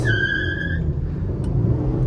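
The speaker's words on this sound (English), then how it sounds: "you hear that wheel spin" A 3rd-generation Honda City without traction control spins its wheels on launch, a sharp tire squeal fading within the first second into a strong, close engine roar that holds steady.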